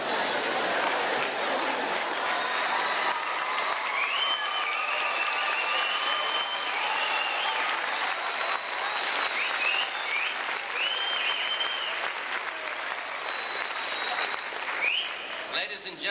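Dense, sustained applause from a large audience at a high school graduation ceremony, rolling on steadily for many seconds with scattered shouts and voices mixed in.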